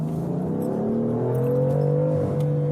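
A BMW M4 Competition coupe accelerates hard with its foot planted, the engine note climbing steadily in pitch as a continuous, loud, close rev with no talking over it.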